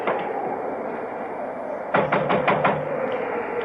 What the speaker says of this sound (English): I'll knock.